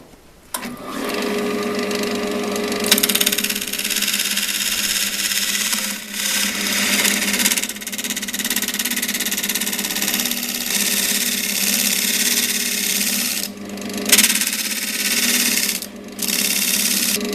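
Small S.I.P 01490 wood lathe spinning a wooden pencil pot while a chisel smooths it, giving a steady loud motor whine with continuous scraping across the whole stretch, briefly dipping a couple of times.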